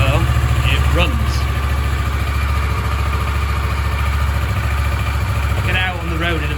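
A Kawasaki Versys 650 motorcycle engine, fitted with a booster plug, idles close by in a steady low rumble throughout, with brief faint squeaks over the top and no talk.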